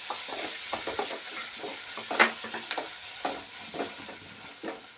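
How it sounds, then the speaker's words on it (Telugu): Onions frying with ginger garlic paste sizzle in a pan while a spoon stirs them, giving repeated scraping strokes over a steady hiss. "దీన్ని ఇలా కలుపుకోవాలి. ఉల్లిగడ్డలు మగ్గాలి."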